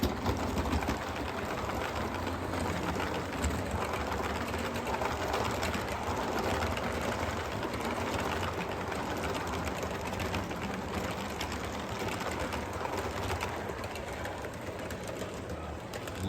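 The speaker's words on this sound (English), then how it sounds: "Love the sound of a train going across the diamonds." Model train rolling across diamond track crossings on an Iowa layout, a steady close mechanical rumble and clatter with faint repeating clicks under the continuous motor hum.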